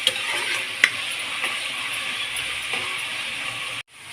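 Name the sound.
onions, green chilies and cumin frying in a pan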